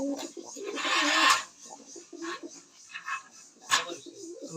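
Fancy pigeons at a pigeon farm give soft, intermittent coos and rustles, fairly close. A louder flurry of activity comes early, with a few brief calls afterward.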